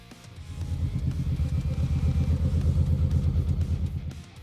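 Kawasaki Vulcan 1700 Voyager touring motorcycle with frame-mounted fairing, its big V-twin engine giving a steady, loud low rumble that idles and pulses evenly throughout, close by with no talking.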